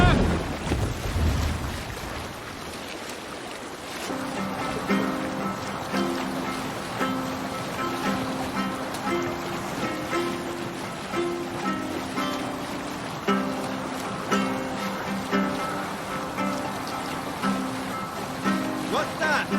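A Viking longship sets out across open water in Assassin's Creed Valhalla, with a steady wash of water and hull noise running throughout, joined by a droning musical tone from about four seconds on.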